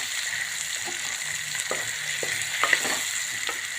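Onions and tomatoes frying in a pan for a paneer and amaranth-leaf curry, a constant bright sizzle with scattered soft stirring clicks and scrapes close by, no talking.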